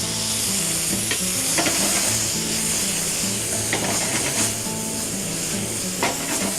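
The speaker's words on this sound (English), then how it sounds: "So we've got some garlic in here, give it a light saute" Garlic sautés in a generous amount of butter in a hot pan, producing a loud, dense, continuous sizzle with crackling pops and a few scraping strokes of stirring, close to the listener.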